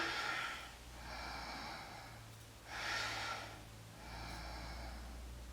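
Deep, slow breaths in a yoga bridge pose, about three long airy inhales and exhales in an even rhythm, close and fairly quiet.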